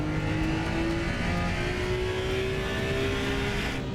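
A race car engine in the video game Assetto Corsa EVO drones and revs steadily at high pitch toward 9,000 rpm, a continuous synthetic-sounding roar with a slight rising whine throughout.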